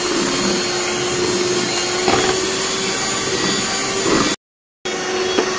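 An electric beater runs on fast speed, whipping cream for soft-serve ice cream in a steady, loud whir that holds continuously and is broken by a brief pause near the end.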